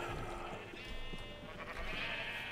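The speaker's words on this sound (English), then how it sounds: "over here we've got little individual pods for sheep" Sheep in Minecraft bleating repeatedly inside small individual pens on a farm, several overlapping calls at moderate volume with no talking.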